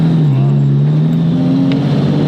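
A 1500hp Nissan Skyline GT-R R34 with an RB36 engine accelerates at part throttle, its engine note droning loud and close and rising slowly in pitch from inside the car.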